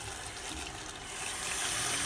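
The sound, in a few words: filling a container with water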